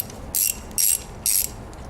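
A ratchet fitted with a 10mm socket breaks bolts loose while installing an ignition system on a Mazda RX8, giving three short, bright, close-up bursts of clicking at steady intervals, with no talking.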